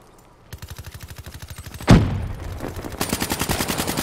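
Rapid automatic gunfire in Call of Duty Black Ops 3, a fast rattling burst, then a heavy blast near the two-second mark, then more quick bursts of shots, loud and close.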